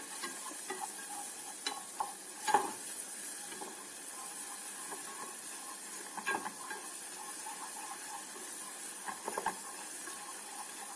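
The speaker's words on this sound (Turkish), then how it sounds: "Evet bir iki dakika kavursak yeterli. Un kavruldu." Flour toasting in a pan with meat for sultan kebab, stirred steadily: continuous soft sizzling hiss with intermittent scraping and tapping of the spoon, close and even, no voices.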